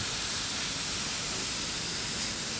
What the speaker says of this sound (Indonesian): lakukan pelapisan akhir permukaan pada benda kerja tersebut menggunakan teknik semprot secara tipis dan merata